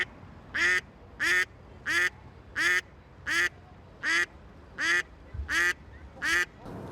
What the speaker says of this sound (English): I'm joined by an extremely noisy duck today